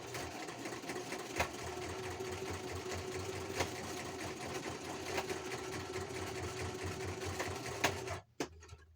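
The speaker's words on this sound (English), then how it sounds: "Let me just sew." A sewing machine runs steadily while stitching a micro mini sketch book, with a constant mechanical whir and faint periodic clicks. It goes on for several seconds, then stops abruptly near the end.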